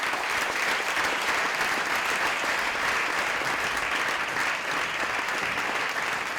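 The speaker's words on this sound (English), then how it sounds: "Applause till the end." Sustained audience applause for team members called up at a globalisation panel, a dense, even wash of many hands clapping that holds steady at moderate loudness throughout, with no speech over it.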